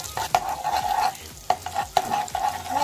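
Tomato paste sizzling in melted butter while a spoon stirs it, a close steady crackle broken by several sharp scraping knocks against the pan.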